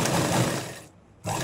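Sewing machine stitching sleeves onto a garment, a loud steady close whir that stops briefly and then starts again.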